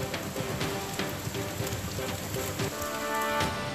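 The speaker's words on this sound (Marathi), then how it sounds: "तौक्ते वादळाच्या पार्श्वभूमीवर कोकणामध्ये समुद्राला उधाण आलंय, तसंच जोरदार पावसालाही सुरुवात झाली आहे." Heavy rain falls steadily in Konkan during Cyclone Tauktae, a dense continuous patter on surfaces with no voices.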